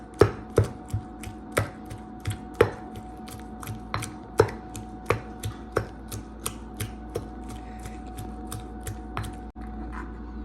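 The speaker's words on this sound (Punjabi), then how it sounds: "ਆਪਣੀ ਚਟਣੀ ਕਿੰਜ ਕੁੱਟਣੀ ਆ" Mango and mint chutney pounded in a kunda mortar: a steady run of sharp, evenly spaced thuds, close and fairly loud, about two per second, with no talking.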